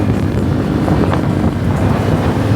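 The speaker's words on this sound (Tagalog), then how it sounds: "Sarap ang hangin guys." Wind blows hard across the microphone, a loud, steady buffeting roar with low rumble throughout, no voices heard.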